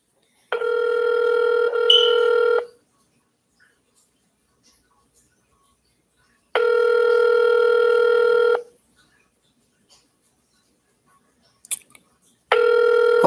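A telephone rings on an outgoing call to a hospital, long steady electronic ring tones separated by silence, heard clearly through the line with two full rings and a third starting.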